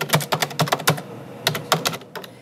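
Keys clack on an ordinary computer keyboard in two quick bursts of sharp, close taps separated by a short pause.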